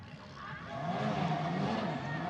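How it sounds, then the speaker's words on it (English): Formula Regional European Championship race car engines at Le Castellet rev and whine as cars leave the pits, a steady rising engine roar with a commentator-like voice faintly underneath. "The revving of engines, you can hear the cars there going back out, but Stenshorn is now going to watch on."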